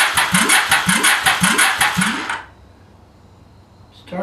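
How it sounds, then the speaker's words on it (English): A car engine cranks over on a newly installed starter motor, loud rhythmic churning pulses for about two seconds without catching, then it stops and a faint hum is left. "Well, it's turning over."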